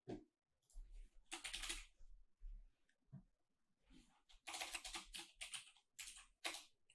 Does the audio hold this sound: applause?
no